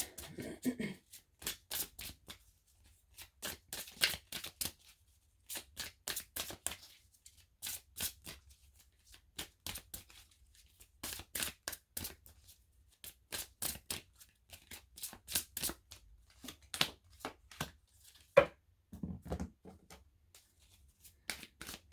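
Oversized tarot cards are shuffled by hand in repeated crisp riffling bursts separated by short pauses. The sound is close and fairly quiet, and it continues for the whole stretch without speech.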